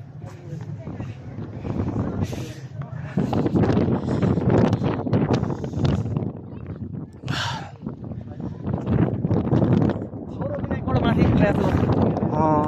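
Steady wind buffets the microphone with a low, rough rumble on a cold, snowy mountain trek at Kalinchok, Nepal, while people talk over it throughout.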